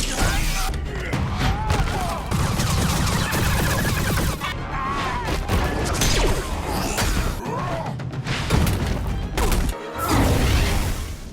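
A gunfire battle in a Mandalorian compound, from The Mandalorian and Grogu, is a loud, dense mix of blasts, crashes and whooshing effects with barely any pause.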